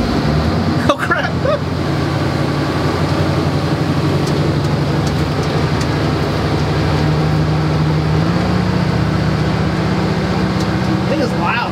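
A fire truck's engine gives a loud, steady rumble with a low drone that shifts pitch partway through, like idling and pulling away; brief voices near the start.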